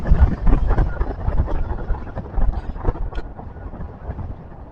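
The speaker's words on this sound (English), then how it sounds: "Getting more consistent 20 to 25 mile per hour gusts." Hurricane Idalia winds buffet the microphone at landfall in a loud, roaring rumble with irregular gust surges that ease slightly toward the end.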